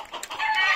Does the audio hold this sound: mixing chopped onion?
no